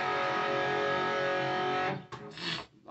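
Electric guitar with a little delay playing a sustained, distorted hard-rock riff that rings steadily, then breaks into a few short choppy notes near the end, close and alone.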